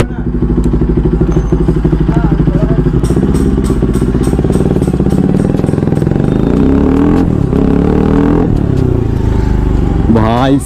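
A Bajaj RS 200 motorcycle fitted with a new aftermarket exhaust idles and revs close by, its throbbing, pulsing exhaust note steady and loud, with a brief rising rev near the end.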